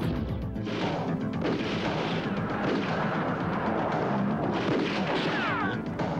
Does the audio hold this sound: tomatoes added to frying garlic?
no